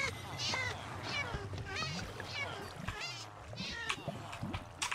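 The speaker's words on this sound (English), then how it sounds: "I can now transform into a cat." Cat meows from the video game Minecraft repeat several times at a steady pace, fairly faint, mixed with game sounds and a voice talking over them.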